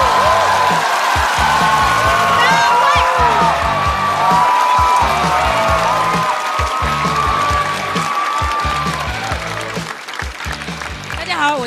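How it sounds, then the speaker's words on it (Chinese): Loud, sustained studio audience applause with cheering rolls on for about eleven seconds at a Chinese stand-up comedy show as a comedian is welcomed to the stage, tapering slightly near the end. "掌声欢迎张慧。"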